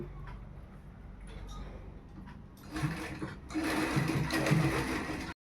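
A sewing machine stitches a blouse, running in a fast, steady mechanical whir that starts quietly and grows louder partway through, close by with some talk in the background.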